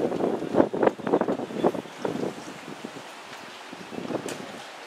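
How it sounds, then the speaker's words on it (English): Gusty wind buffets the microphone outdoors, with uneven rushing bursts that are stronger at first and then settle into a softer, steady blow. "the wind is blowing"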